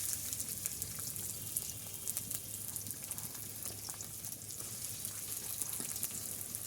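Onions sizzle in hot oil for a tuna curry, giving a steady, close crackling hiss with fine popping that continues evenly throughout and no one talking.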